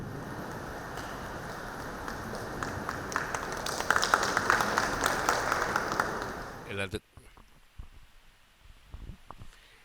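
Audience applause at a Sri Krishna Sweets program in Chennai welcoming a speaker, a dense, steady patter of many hands that swells and then cuts off abruptly, followed by quieter room sound.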